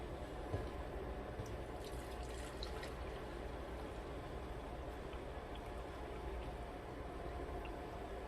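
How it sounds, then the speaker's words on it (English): A custard mixture is poured into a measuring cup in a kitchen, making a faint, continuous liquid trickle with a few small splashes over a low background hiss. "I'm going to pour it back in this measuring cup"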